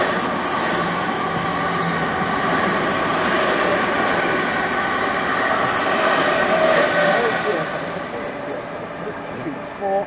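An empty stock train passes through Romford station on the Great Eastern Main Line, a steady, loud rumble of rail wheels and carriages that holds for most of the stretch before easing off near the end; a voice speaks faintly underneath.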